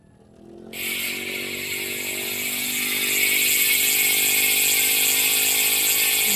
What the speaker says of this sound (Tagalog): yung tunog ng Weapon Savage MTB hubs kapag naka-free wheel